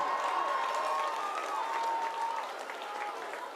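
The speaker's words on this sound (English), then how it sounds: "Big round of applause, Mr. and Mrs. Pine Creek." A crowd at a high school homecoming football game applauds continuously, a dense wash of clapping with some cheering mixed in, steady and slightly fading toward the end.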